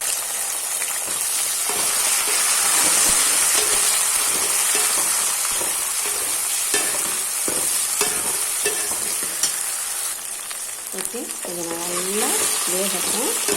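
Tomato sautéing with fried onion and garlic for a dried anchovy curry, a loud close sizzle with repeated scraping and stirring strokes, and a voice talking briefly near the end.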